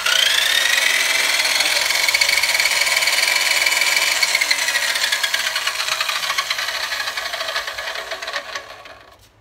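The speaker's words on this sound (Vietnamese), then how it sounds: "để mà cưa thử cho anh thấy, cho anh em thấy" A Japanese domestic-market 100V electric power saw cuts with a loud, close, high whining buzz that holds steady for several seconds, then slowly winds down and fades out at the end.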